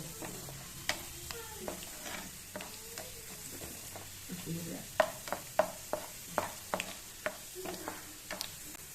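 Crushed garlic sizzles softly in oil in a pan while a utensil scrapes and taps against it in irregular knocks, a quiet close-up of stir-frying.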